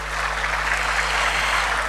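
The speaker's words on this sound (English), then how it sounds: "Please give him a big round of applause." Audience applause at an international currency conference, a steady, even patter of many hands clapping together throughout, fairly loud and sustained over a low hum of the hall.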